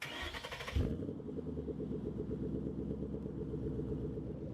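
A 2013 Mustang Boss 302 in Farming Simulator 19 fires up with a sharp starter catch, then settles into a steady, loud rumbling idle with a throbbing low burble.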